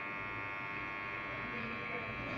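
Electric hair clippers run with a constant low buzz throughout a haircut, close and steady, with no clear speech over it.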